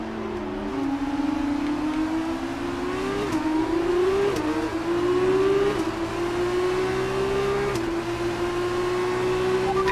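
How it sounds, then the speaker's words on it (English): A Formula 1 car engine in the F1 2019 racing game screams at high revs, climbing in pitch through repeated upshifts with brief dips between gears, loud and continuous with no talking. "To keep from over-revving the engine."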